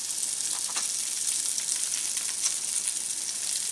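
Rainbow trout fillets fry in a pan with a steady, bright sizzle and faint crackles, continuous and fairly close, with no talking.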